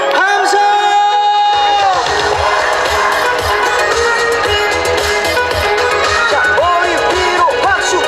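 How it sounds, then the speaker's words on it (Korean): Crowd at a Ganghwa October concert cheering loudly during a trot singer's dance song, mixed with loud amplified music and a steady beat; whoops and crowd roar sit under the band throughout. "자 여러분 함성 한 번 준비하시고 큰 소리로 다 같이"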